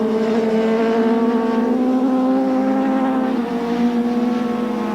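A steady, high-revving superbike engine drone with strong harmonic tones holds throughout, loud and close, at full throttle during a 1983 superbike race heat.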